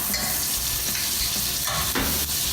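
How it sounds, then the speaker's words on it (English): Olive oil and butter sizzle in a pan, a close, steady crackling hiss with light stirring scrapes running through the short stretch. "now I'm going to go ahead and add another tablespoon or so of olive oil to the pan, and a little more butter as well"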